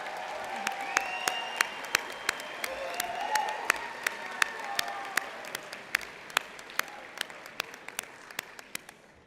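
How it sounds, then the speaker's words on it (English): Convocation audience at a University of Calgary spring ceremony breaks into steady, sustained applause with a crowd-wide wash of clapping, a few sharp individual claps standing out near the microphone as it gradually thins toward the end. "give them a round of applause for all their support through your time at UCalgary"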